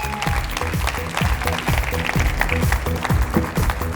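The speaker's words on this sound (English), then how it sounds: "Give a big round of applause to Dror" Audience applause at a stage event during a health summit, as a guest founder is welcomed on stage: steady, dense clapping from a crowd, fairly loud and continuous throughout, with a few sharper individual claps standing out.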